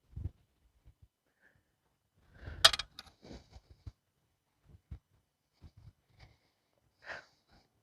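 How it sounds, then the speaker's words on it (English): A few small screws set down one by one on a 1956 Farmall 300 Utility tractor, producing sparse light clinks and taps, close by and quiet, with brief rustling between them. "I'm gonna put the screws over here"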